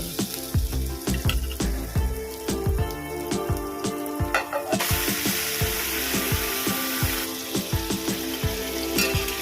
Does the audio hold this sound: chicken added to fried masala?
yes